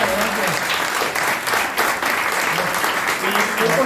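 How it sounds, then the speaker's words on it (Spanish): An audience at a book presentation in Granada applauds a singer, a sustained wave of many hands clapping that swells and dips slightly. Faint voices rise under the applause. "un aplauso para ella"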